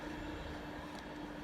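A Class 390 Virgin Pendolino, unit 390045 in Pride livery, rushes through Heaton Chapel station, giving a loud, steady roar of wheels and rail noise with a faint tonal hum.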